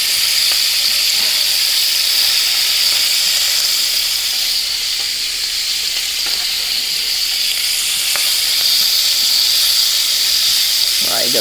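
Onion fries in pork chop grease in a pan, a loud, steady, close sizzle and hiss throughout, with a few faint stirring scrapes.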